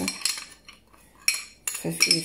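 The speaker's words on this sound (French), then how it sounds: "dans un saladier on va tout mélanger" A utensil clinks and scrapes against a bowl in short, close bursts as spices are mixed for a Moroccan salmon tagine, with quiet gaps between strokes.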